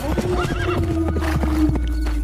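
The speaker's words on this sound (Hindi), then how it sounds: "घोड़े पर सवार होकर ज्ञानचंद दूसरे राज्य की सीमा में चला गया" In a horse sound effect, a loud close whinny with wavering, rising and falling pitch sounds over a steady clip-clop of galloping hooves and a low rumbling background. No one speaks.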